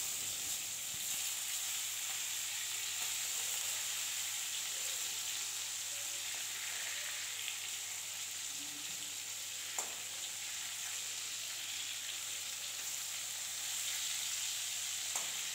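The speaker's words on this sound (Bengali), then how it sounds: "সব মাছগুলো উল্টে দেওয়া হয়ে গেছে, 2 মিনিট ভাজা করে নেব।" Fish pieces, flipped partway through, fry in hot oil for a curry, giving a steady, moderately loud sizzle with faint crackles throughout and no talk.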